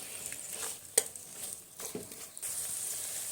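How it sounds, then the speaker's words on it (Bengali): Chopped tomatoes frying with onions in a pan, a soft continuous sizzle with a few brief stirring scrapes and clinks, fairly quiet and without talk. "টমেটোগুলো এই পেঁয়াজ ভাজার মধ্যে দিয়ে আরও সময় নিয়ে টমেটোগুলো আমি ভেজে নিচ্ছি"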